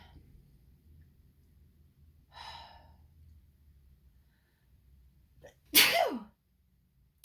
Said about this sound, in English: And I feel like I need to sneeze too.